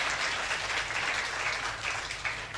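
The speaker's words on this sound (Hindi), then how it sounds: "तालियां होनी चाहिए इस बात पे।" An audience at a Hindi comic poetry recitation applauds, a dense, steady wash of clapping from many hands that stays fairly loud with no voices over it.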